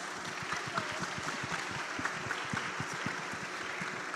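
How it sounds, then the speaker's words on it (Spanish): An audience claps for panelists after a construction-sector panel on gender inclusion and equity, a steady, fairly soft round of many hands with individual claps poking out of the wash. "un aplauso muy grande para ustedes y mil gracias"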